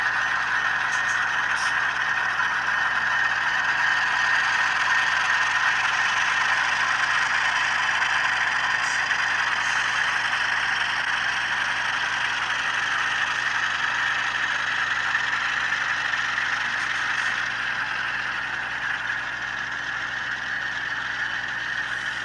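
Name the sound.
HO scale model diesel locomotives running with sound decoders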